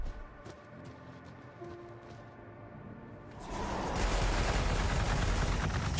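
Gunfire in the Warhammer 40,000: Gladius strategy game hitting a chaos spawn unit: sparse clicks give way to a dense, sustained crackling barrage that rises and holds loud through the second half.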